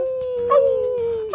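A dog in the video game Persona 3 Reload gives a sad, drawn-out whimpering howl, a single steady whine that rises briefly in the middle and trails off, close and clear with no talking over it.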